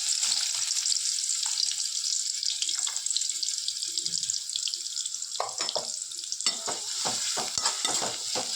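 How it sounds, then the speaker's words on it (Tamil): Steady sizzling of chopped onions frying in hot oil, with scraping and stirring clatter from a spoon in the pan toward the end. "அந்த எண்ணெயில் பொடியாக நறுக்கின 2 பெரிய வெங்காயத்தை சேர்த்துக்குவோம்."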